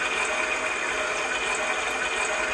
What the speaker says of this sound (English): you can also add privacy noise